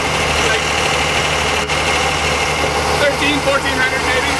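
A diesel engine fitted in a 1927 Ford rat rod runs steadily up close, a constant loud mechanical drone with low rumble and a brief dip partway through; voices talk faintly over it.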